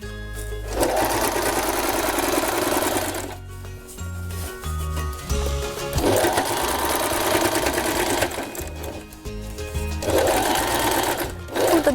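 A sewing machine stitches a denim vest made from old jeans in three loud bursts of running, separated by short pauses with clicks and fabric handling.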